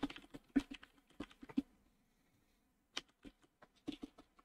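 Bursts of keyboard typing during an online shogi game, quick clattering keystrokes near the mic, a pause of near silence, then another run of keys.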